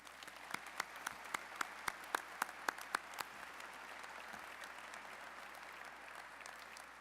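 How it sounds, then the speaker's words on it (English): Audience applauding the Austal workforce at a shipbuilding facility opening, a run of distinct nearby claps over a faint, steady background of distant clapping. "If I can have a round of applause for the Austal workforce."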